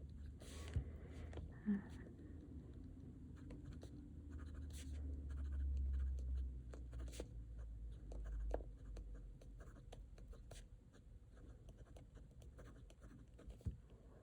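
Pen scratching across the pages of a Hobonichi Cousin planner during weekly planning, a soft, intermittent scribble with brief pauses and light taps, close and quiet with a low background hum.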